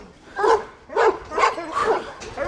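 Kangal puppies barking in a quick series of four or five sharp yappy barks, close and fairly loud, with brief gaps between them.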